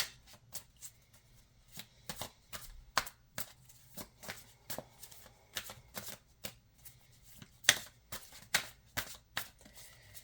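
A deck of playing cards being shuffled over and over, a string of crisp riffling bursts in an uneven rhythm, close and fairly quiet against a still room.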